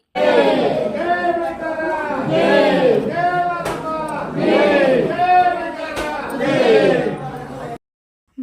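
A crowd at a temple chants rhythmic victory cries to Lord Madappa, four loud, drawn-out phrases in unison, each rising and falling, before the chanting stops abruptly into silence.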